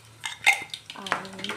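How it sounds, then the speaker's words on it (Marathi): Mustard seeds drop into a hot kadhai for tempering, giving a short burst of clinking, rattling metal-pan sounds with sharp scattered clicks, close and fairly loud. "हे आपण कढईमध्ये टाकत आहे राई"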